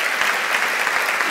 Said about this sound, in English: I'll let you get your applause with it.